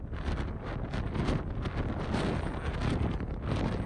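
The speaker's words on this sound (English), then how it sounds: "you can hear now how windy it was" Strong wind on the deck of a cruise ship roars steadily and loudly into the microphone, a constant buffeting rush with gusty swells throughout and no talking.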